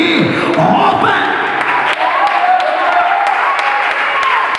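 A church congregation claps in a dense, continuous round of applause, with sharp individual claps standing out, while voices call out and talk over the clapping.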